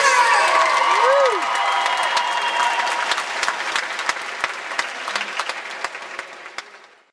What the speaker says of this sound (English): Let's have a huge round of applause for Captain Jack Sparrow!